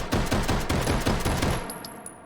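Luger LP08 long-barrel pistol fired in the H3VR virtual reality shooting game, a rapid string of about eight sharp, loud shots in quick succession, then a brief clink and fading ring.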